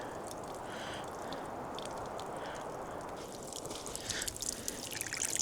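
Cold spring water at Picnic Spring in South Dakota trickles and drips steadily nearby, a soft continuous splashing with faint brighter drips near the end.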